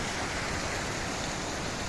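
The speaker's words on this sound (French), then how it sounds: "Des cascades, en veux-tu, en voilà." Waterfalls pour beside the Trollstigen mountain road in Norway, with water running everywhere and even across the road, making a steady, dense rushing roar that fills the whole moment without a break.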